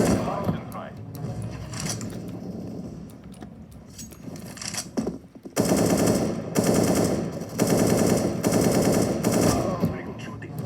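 Machine gun firing on a shooting range in bursts, one ragged stretch then several loud sustained rattling volleys close by, with brief talk and metallic clinks between.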